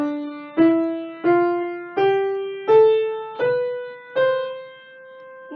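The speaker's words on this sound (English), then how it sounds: "we're used to hearing a lot of things in major, so it would sound something like this" A piano plays a slow rising scale in a major key, seven clear single notes struck one after another, each ringing and decaying before the next, alone and fairly loud.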